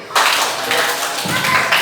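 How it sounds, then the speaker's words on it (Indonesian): A classroom of fifth-grade primary school children clapping their hands together, a dense burst of overlapping applause starting abruptly and continuing loudly to the end, with some voices mixed in. "Ya, tepuk tangan."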